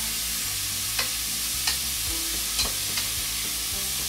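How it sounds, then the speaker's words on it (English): Onions sizzle steadily in a pan, with a few soft clicks of a utensil scattered throughout; no one speaks. "And you can hear that sizzling."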